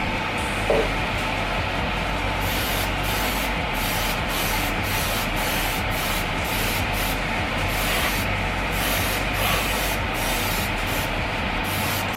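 An airbrush sprays raw aluminium paint onto a scale model, giving a steady close hiss that keeps an even level throughout, with faint rhythmic pulsing.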